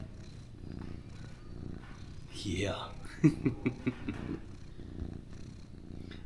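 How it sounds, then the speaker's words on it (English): A domestic cat purrs softly and close by, a low rumbling under quiet talk, with a few brief louder pulses near the middle. "Have you ever heard a cat purr?"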